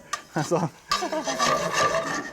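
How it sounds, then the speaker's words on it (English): Butter being swirled into a wine sauce in a pan, with soft scraping and stirring rubs and a faint sizzle near the pan, under a voice talking. "So we're gonna just swirl this butter in."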